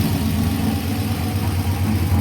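An Isuzu Trooper engine with race bullet exhaust runs at a steady idle, a continuous low rumbling drone at close range with no talking.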